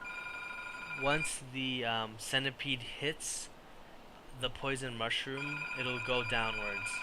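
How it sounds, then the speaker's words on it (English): An office or desk telephone rings in repeated electronic trills of steady high tones, heard partly under a voice presenting software for a centipede and mushroom game. "Sorry about the phone."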